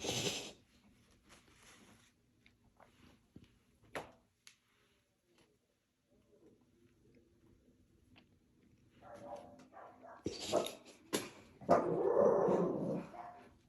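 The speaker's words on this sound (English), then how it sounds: "We have some dogs present." Dogs growl and whimper in short, scattered bursts, faint at first with long quiet gaps, then a louder cluster of close growls and whines near the end.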